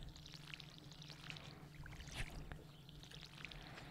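Water pours steadily from a watering can onto plants in a fishing video game, a continuous soft splashing trickle lasting throughout, with a low hum underneath.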